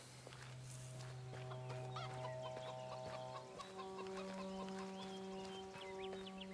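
Chickens clucking in the video game Of Ash and Steel, a series of short clucks over a sustained droning game score, fairly faint throughout.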